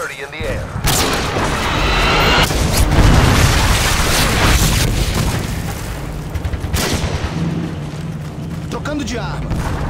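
AC-130 gunship strikes in a Call of Duty-style shooter: continuous loud booming explosions and rumbling fire rolling over nearly ten seconds, with heavy low-end impacts and dense crackle, and a voice speaking over the barrage.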